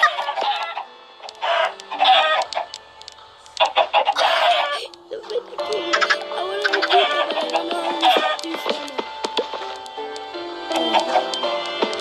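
Chickens cluck and squawk in the Lucky Block video game, a busy and fairly loud stream of short calls mixed with game noises.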